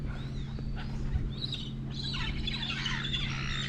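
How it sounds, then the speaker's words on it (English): Seagulls calling in a noisy flock over a lake, shrill cries rising and overlapping across the clip over a steady low hum of background noise. "Heaps of seagulls."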